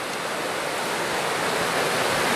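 Broad, constant rushing of a clear mountain river fed by snowmelt, close and loud with no voices, a dense even wash of flowing water throughout.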